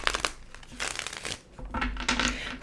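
Heavy, thick tarot cards are shuffled close by in several quick riffling bursts, each a crisp papery crackle and snap, with short pauses between them.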